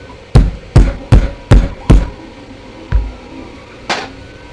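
Sharp metal hammer blows drive a pin into a retractable airsoft MP9 stock: five quick strikes in a steady rhythm, a pause, then two more spaced taps, loud and close.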